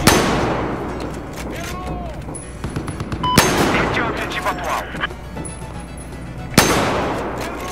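Repeated gunfire cracks in Battlefield 4 on PS3, a few sharp loud sniper shots standing out among rapid bursts, with a voice talking over the busy mix.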